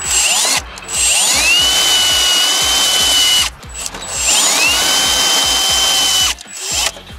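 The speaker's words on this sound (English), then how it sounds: "I'm going to drill through it and then cut it out." A power drill whines loudly in two long bursts while drilling through a metal part, its pitch rising as it bites in, with a short pause between runs.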